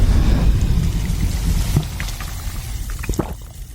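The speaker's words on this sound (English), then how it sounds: "Condensation drips deliciously." Condensation drips down a chilled glass of Coca-Cola Zero in a commercial, heard as a few scattered soft drips and ticks over low rumbling background noise.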